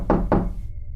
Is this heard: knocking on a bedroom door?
yes